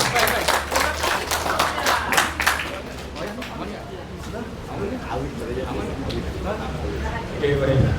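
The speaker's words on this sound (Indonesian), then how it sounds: "Tepuk tangan dulu buat Pak Sofian." Audience clapping at a disaster-preparedness training session, a burst of brisk claps up close that thins out into chatter and murmuring voices from the room.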